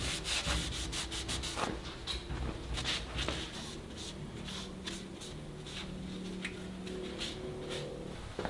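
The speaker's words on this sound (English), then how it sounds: "Next is to clean the oil pan rail so it is absolutely spotless." A cloth wipes clean the oil pan rail of a 440 Mopar engine being built, giving continuous close rubbing strokes with brief scuffs and no talking.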